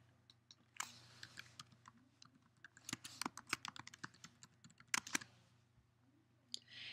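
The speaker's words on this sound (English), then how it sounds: "Enter your username and password in the member login" Fingers type a username and password on a computer keyboard: quiet, irregular key clicks in short bursts over a faint steady hum, close and without talk.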